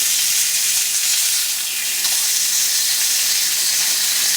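Pork chops fry in a hot pan with a loud, dense, continuous sizzle and spatter that stays even throughout, with no one speaking.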